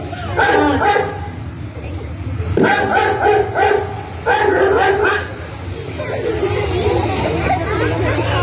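Several children in a pre-primary school assembly imitate a dog's bark in a few loud, ragged group bursts with babble between them.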